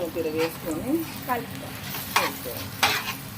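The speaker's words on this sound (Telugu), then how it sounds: "ఇప్పుడు కలుపుకోవాలి మంచిగా" Scrambled egg is stirred and broken up in a hot oiled pan for egg fried rice, a close crackling sizzle with repeated spatula scrapes and a couple of sharper knocks against the pan.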